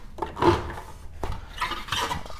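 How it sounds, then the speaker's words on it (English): A metal clamp being unfastened from a Big Foot sluice box holding a Dream Mat, producing a few close clanks, rattles and scraping handling noises in short irregular bursts, with no one speaking. "So this clamp comes off, and that way you can just take your Dream Mat out"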